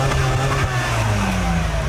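Car engines crank on their starter motors and catch, a loud steady mechanical grind and rumble filling the scene without pause.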